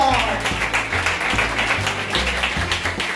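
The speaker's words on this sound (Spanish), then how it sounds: "¡Un aplauso!" An audience claps in a busy hiss of many hands over a thumping music beat, with voices mixed in.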